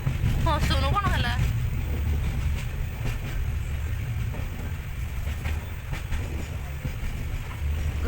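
A passenger train rolls along with a low, continuous rumble heard from inside the carriage. A voice speaks briefly at the start over the steady rail noise.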